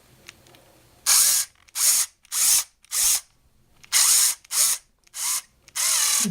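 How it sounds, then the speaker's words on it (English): A power drill bores a hole through a plastic 18650 lithium-ion battery holder case in about eight loud, close whirring bursts separated by short pauses, with no talking. "So I just drill a hole in here and the bolt into"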